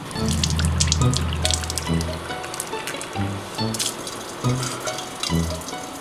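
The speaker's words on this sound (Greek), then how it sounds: "στη βρύση του Καλάμου σκύψε και πιες, μέσα από τη φούχτα σου κρύο νεράκι" Kalamos village fountain on Ithaca: water splashes and gurgles continuously close by, broken by soft irregular thuds and drips, with no talking.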